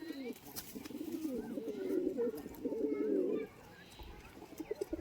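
Pigeons cooing in a series of low, warbling calls close by, a few rolling phrases that swell and then stop, with faint background noise and no talk.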